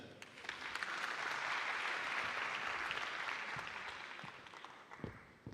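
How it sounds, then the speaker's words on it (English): Audience applause follows a keynote at a deep-tech summit, a fairly faint but sustained wash of clapping from a large hall, steady throughout with a few sharper claps near the end. "another round of applause for Mr. George Raymond"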